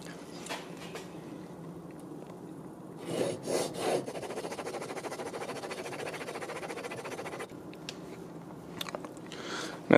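A Japanese chisel rubbed back and forth on a finest-grit sharpening stone, giving a soft, steady rasping scrape with a few firmer strokes, close and continuous, no talk.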